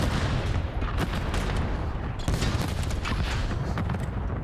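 Explosions and gunfire burst all at once at the start of a high-rise round in Call of Duty, forming a loud, dense barrage of overlapping blasts and cracks that never lets up.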